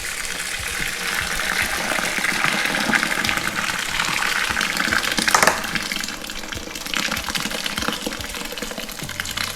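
Treated sparge water is poured over a full bed of grain during homebrew beer making. The water gushes steadily and close for the whole stretch, with a brief stronger splash midway.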